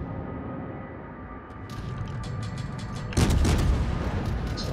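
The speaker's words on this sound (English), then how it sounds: "Defensive fire, go! Anti-aircraft gun crews are on full alert." Warship anti-aircraft guns in a naval battle game open defensive fire, a rapid string of sharp bangs rattling out before a louder burst of heavy booms near the end.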